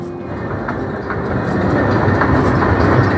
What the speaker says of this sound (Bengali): এই যে ট্রেনে সবাই উঠতেছে